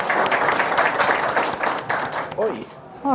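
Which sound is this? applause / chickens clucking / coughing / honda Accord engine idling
applause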